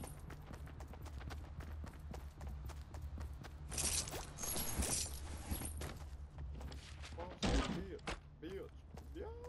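Scattered gunfire and footsteps in the Fortnite video game, a steady patter of sharp hits with a louder burst midway. Voices murmur faintly underneath.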